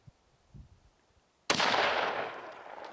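A single 460 Rowland gunshot firing a 180-grain load cracks loud and close after a quiet moment, then a long rumbling echo decays.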